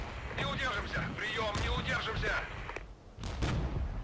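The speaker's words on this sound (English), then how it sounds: "But there's artillery fire coming in." Artillery fire in the World War II strategy game Regiments, during an attack on a German line: heavy, rumbling blasts and crackling gunfire build under game voices, with a couple of sharp bursts near the end.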